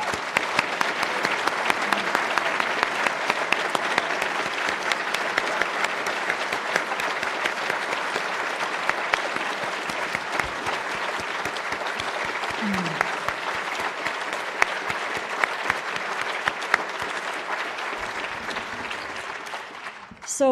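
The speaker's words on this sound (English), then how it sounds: "I would love for all of our awardees for 2023 to stand up so we can give you one final thundering round of applause" Thundering audience applause for the 2023 National Academy of Sciences awardees at an awards ceremony, a broad, sustained wash of clapping from a large crowd in a hall, even and continuous before a brief rise at the very end.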